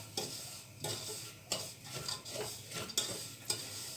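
A spoon steadily stirs semolina roasting in butter and olive oil for semolina halva, with rhythmic scraping strokes over a soft, continuous sizzle from the pan.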